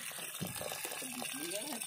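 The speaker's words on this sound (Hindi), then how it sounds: "तो इधर पानी डाल रहा है।" Water is poured during outdoor picnic cooking in winter, a brief gushing splash close by while someone talks over it.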